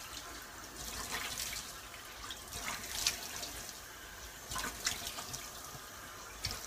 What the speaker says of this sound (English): So I'm going to rinse this off.